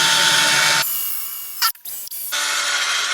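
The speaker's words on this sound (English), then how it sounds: "you want to load the drill bit into the drill" Power drill with a 9/32 inch bit boring into an end cap, a loud whirring whine that drops out abruptly, stutters with short bursts and starts again at full speed.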